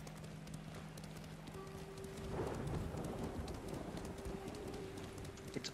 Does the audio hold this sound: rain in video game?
yes